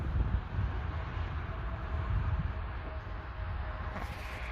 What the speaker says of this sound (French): Mais on a du vent, regardez un petit peu comment ça bouge